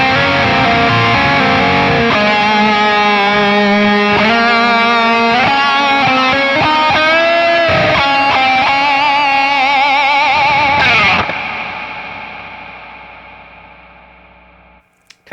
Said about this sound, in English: Let's try this cloud reverb.